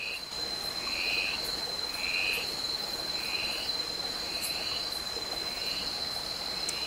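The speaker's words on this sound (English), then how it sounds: "we can actually hear endangered miss frogs" Endangered mist frogs call steadily in a forest stream setting, a regular series of six evenly spaced croaking pulses over a constant high insect-like drone, clear and fairly near, with no talking.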